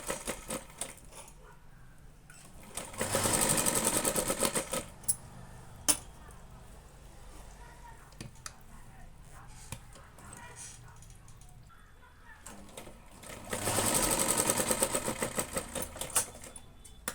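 A sewing machine stitches fabric for a tassel in two short bursts of fast, even whirring, separated by quiet stretches with faint handling clicks and soft speech.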